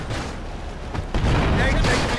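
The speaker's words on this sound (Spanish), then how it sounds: "¡Rápido, que todo explota a la verga!" Explosions burst in GTA Liberty City Stories, a loud rumbling blast rising sharply halfway through and lingering as a heavy roar.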